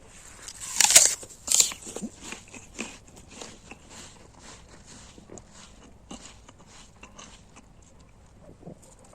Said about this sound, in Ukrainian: Отак жую, наче по снігу йду. Такий хрускіт.